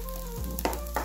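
Masala fries in oil in a kadai over a medium flame, with a steady low sizzle and a couple of short stirring scrapes over a faint background hum.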